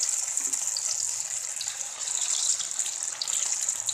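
Vegetable lollipops on sticks frying in oil over a medium flame give a steady, close, bright sizzling hiss that holds evenly throughout, no one talking.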